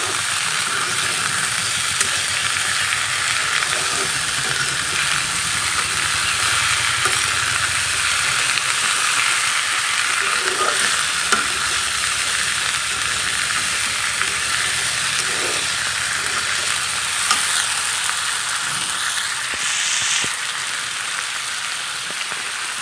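Potatoes frying in hot oil in a pan for crispy aloo fry, a steady loud close sizzle that continues without a break, with faint stirring clinks.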